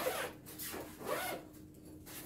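A short zipper on a fabric bow case pulled in a few rough strokes, close and fairly loud, with a rasping, rubbing texture.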